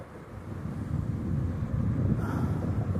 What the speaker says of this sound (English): There's noise, guys. Like, there's noise, there's wind, right?